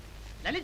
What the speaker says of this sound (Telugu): చెవి కోసం మేక పిల్లలు ఒకటే అరుస్తున్నారు